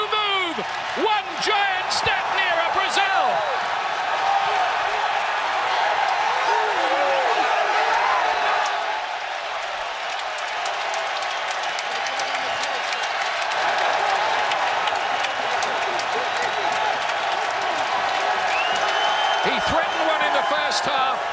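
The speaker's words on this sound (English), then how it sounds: "the crowd here in Columbus, Ohio, are going wild" A stadium crowd in Columbus, Ohio cheering wildly during a USA versus Mexico 2013 World Cup qualifying soccer match, a loud continuous roar with whistles and shouts, while a commentator talks over it.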